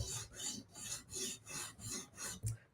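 Knife drawn in forward strokes across a 150-grit sharpening stone, six steady rasping passes in an even rhythm, close and fairly quiet, with no voices.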